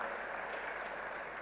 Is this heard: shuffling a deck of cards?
no